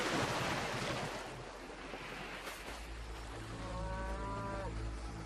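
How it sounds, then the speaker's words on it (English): Cattle of the herds of Helios, fatted calves and cows, low drawn-out mooing on a shore, a long moo rising near the end over steady wind and surf. "the herds of Helios, the fatted calves, cows, sheep, and lambs, are resplendent"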